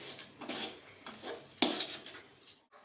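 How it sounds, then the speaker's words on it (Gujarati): Spoon scraping and stirring a mashed potato masala with sambhar and garam masala in a pan, a few soft metallic scrapes and clinks at a steady pace, close and fairly quiet. "હવે બધું પાછું મિક્સ કરી દઈએ"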